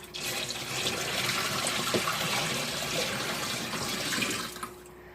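Water splashes steadily into a washing machine drum as a pitcher is emptied, a continuous hissing pour that runs for several seconds before tapering off quickly.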